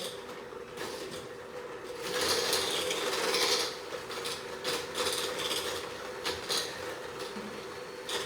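Creamed batter with eggs is mixed in a big bowl, giving a steady, whirring mechanical drone with rattling texture that swells louder for a couple of seconds midway, no talking.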